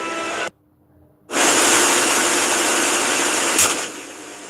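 A WWII aircraft engine roars loud and steady, a dense sustained blast that cuts out briefly near the start and then returns at full force.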